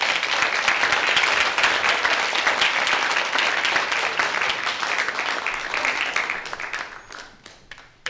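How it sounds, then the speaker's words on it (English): Warm audience applause at a Bataan Legacy conference, a steady dense wash of many hands clapping that holds strong and then tapers off toward the end. "help me give Mike Honda a warm round of applause"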